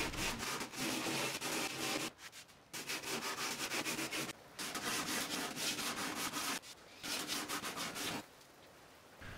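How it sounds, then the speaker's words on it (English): Steady back-and-forth rasping of a sanding block on the wooden roof sections and trim of a little free library, close up and rhythmic, broken by a few brief pauses between runs of strokes. "I'll take a sanding block and sand the roof sections and the trim pieces"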